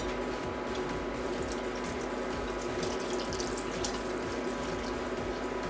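A steady stream of cold tap water pours into a pot of chicken dumpling soup, a close, continuous splashing rush that holds at an even level throughout without talk.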